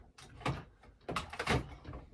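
A wooden drawer is pulled open with two quick scraping slides in a quiet room while someone searches for a remote.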